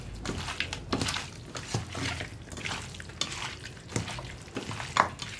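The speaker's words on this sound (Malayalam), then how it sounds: "ഇനി ഇതെല്ലാം ചേർത്ത് നന്നായിട്ടൊന്ന് മിക്സ് ചെയ്തെടുക്കുക" Marinated chicken pieces being mixed by hand with ground spices, ginger and garlic for a Kerala chicken roast, giving a soft, wet squelching and stirring texture with irregular repeated strokes at close range, moderately quiet and without speech.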